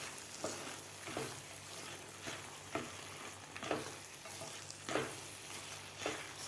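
Carrot halwa with fried dry fruits is stirred in a pan, a steady soft sizzle broken by repeated scraping strokes of the spoon at a regular rhythm, close and moderately quiet.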